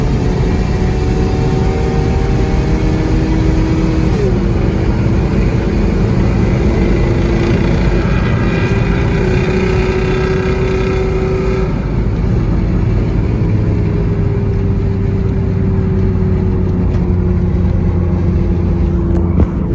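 A Honda car drives behind another car on the way back from a car show, its steady engine hum and road rumble close and continuous for the whole stretch, with no talking.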